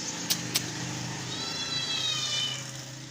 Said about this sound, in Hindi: बिल्ली छोटी सी प्यारी बिल्ली